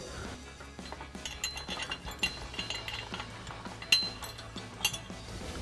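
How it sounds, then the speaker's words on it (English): Steel bolts, flat washers, lock washers and nuts for an MBRP Armor Lite dual exhaust on a Ford F-150 clink and rattle in the hand. Light metallic taps come in a loose, irregular run, close and fairly quiet. "We'll grab our 2 provided bolts with flat washers and lock washers and nuts and get this loosely in place."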